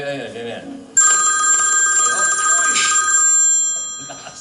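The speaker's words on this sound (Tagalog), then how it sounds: "Lakas ng cellphone." A cellphone rings loudly and steadily with a sharp electronic tone for about three seconds, cutting in abruptly after a brief stretch of talk and continuing under voices.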